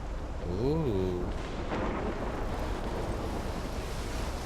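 A thunderstorm rolls through the video game Life is Strange: a deep, sustained rumble with rain-like hiss fills the scene, while a brief exclaiming voice is heard near the start.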